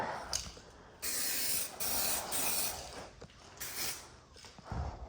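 Spray gun laying a paint coat on a 2008-2016 Ford F350 Super Duty bumper fitted to a 1999-2007 truck: several loud hissing bursts of spray, about a second or two each, with short gaps between, no talk.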